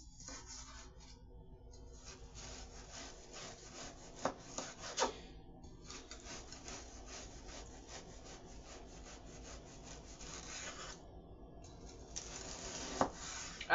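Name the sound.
cutting frozen imitation crab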